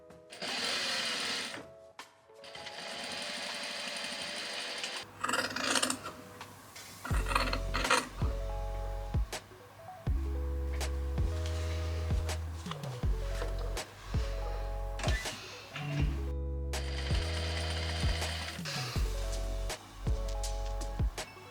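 A home sewing machine stitches a linen seam in repeated bursts of rapid, even whirring, separated by short pauses and handling clicks. It is close and clear, with no talk.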